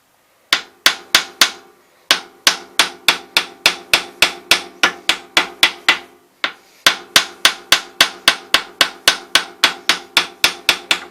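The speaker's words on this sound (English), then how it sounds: "Hard to tell when you're watching the hammer going up and down." Rapid repeated hammer blows ring out on a metal engine piston of a Massey Harris 44 Special tractor, sharp and close, in three bursts of steady strikes with short pauses between.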